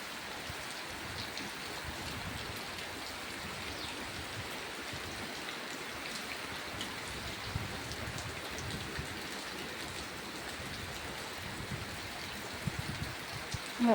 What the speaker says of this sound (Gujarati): ફૂલ વરસાદ હા